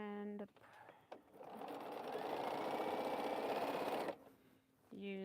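A sewing machine stitching quilt pieces runs in one steady, close whirring burst of a few seconds, framed by brief speech before and after.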